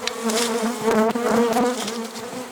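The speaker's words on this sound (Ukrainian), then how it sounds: "це все-таки місцева бджола" Dense, continuous buzzing of many local-breed honeybees at an apiary, swarming close by, a steady droning hum that swells and wavers with no voices.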